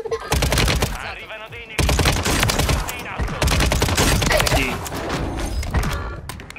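Rapid automatic gunfire from a weapon in the video game Warzone, dense loud bursts in three long strings with brief gaps, under game sounds and occasional voice chatter.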